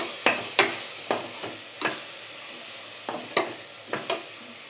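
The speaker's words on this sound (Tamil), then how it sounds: "இப்போ நம்ம இந்த கரம் மசாலா போட்டு இந்த டைமில் நம்ம போட்டுக்கலாம். இதையும் போட்டு கொஞ்சம் நல்லா ஒரு வதக்கிடுவோம்." Garam masala and ginger-garlic paste sautéing in a pan for a cauliflower kurma, with a soft sizzle beneath about ten sharp spoon scrapes and stirs spaced unevenly, close and moderately loud, with no talking.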